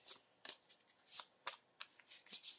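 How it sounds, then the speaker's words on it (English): A deck of Marvel Champions cards being shuffled by hand during a tabletop game, quiet close riffling and sliding in several short bursts, with no voices. "add it to our hand and shuffle our deck"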